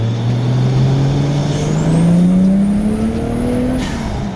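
A Toyota 1JZ car fitted with an HKS intake accelerates in one pull, its engine note climbing steadily in pitch and loudness with a faint high whistle riding above before easing off.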